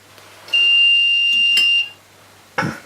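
A loud, sustained electronic beep lasting over a second, piercing and steady, followed after a pause by a short clipped sound.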